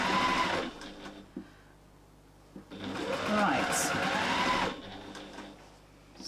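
A sewing machine stitches flowers on a quilt in bursts, a close rapid mechanical whir that starts and stops several times, with a short spoken word between runs.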